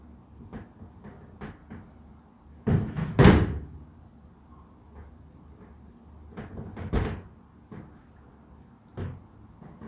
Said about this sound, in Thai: มีเสียงขยับโต๊ะทำไมมันดังเข้าจัง